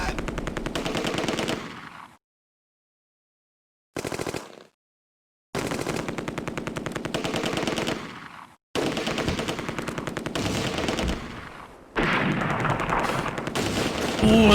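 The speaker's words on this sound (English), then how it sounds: "Ooh, they're shooting at me." Sustained rapid gunfire in the WWII strategy game Close Combat: A Bridge Too Far, loud bursts of machine-gun fire cut by abrupt silences, resuming in long rattling volleys.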